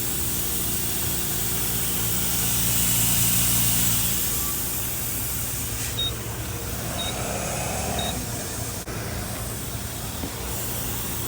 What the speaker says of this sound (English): Now I need to get air in my tires.